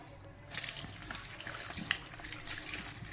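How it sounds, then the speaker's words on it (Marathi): Homegrown green chillies are rinsed under running water, a steady splashing faucet stream that starts after a short pause and continues close and fairly soft, with a few small clinks, alone without talk. "आता ह्या मिरच्या स्वच्छ अशा आपण पाण्याने धुवून घेऊया"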